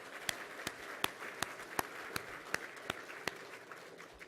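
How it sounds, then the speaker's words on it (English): Audience applause at a Rick Hansen Foundation Access4All event: steady, moderately quiet clapping with sharp individual claps landing at an even, rhythmic pace throughout. "let's give Emily another round of applause"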